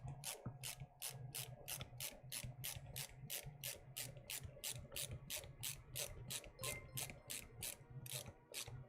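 A driver turns screws into plastic enclosure parts for a Prusa 3D printer, producing a fast, evenly spaced ratcheting click that continues through the whole stretch, close but quiet.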